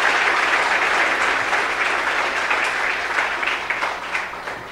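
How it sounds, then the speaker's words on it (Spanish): A church congregation gives strong, sustained applause during a Catholic priest's sermon, a dense, steady roar of many hands clapping for nearly five seconds and easing off slightly toward the end. "Dale un fuerte aplauso a nuestro Señor y Salvador Jesucristo."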